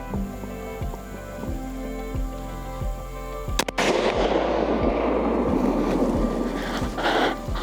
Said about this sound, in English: Yeah, I'm gonna shoot him.